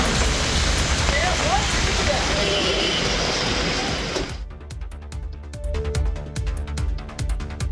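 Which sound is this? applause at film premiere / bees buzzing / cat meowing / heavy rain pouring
heavy rain pouring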